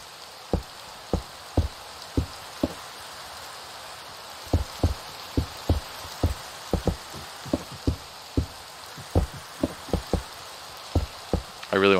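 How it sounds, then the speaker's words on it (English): Steady hissing rain falls in a Minecraft game world, joined by scattered sharp knocks and clicks at irregular intervals, with no talk. "I really want to turn this rain off."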